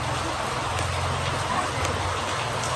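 Steady rain falling on a roadside during a solo bicycle tour in Mexico, a dense even hiss with low rumble of passing traffic underneath, continuous and fairly close.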